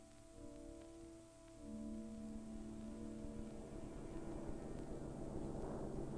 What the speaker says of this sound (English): one of the research planes plunges toward a cloud to start its seeding run